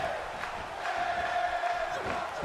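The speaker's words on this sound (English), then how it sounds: "The crowd chanting." A wrestling arena crowd in the WWE 2K17 video game chants and roars as a low, steady wash of massed voices at moderate distance, with a sustained tonal note running through the middle.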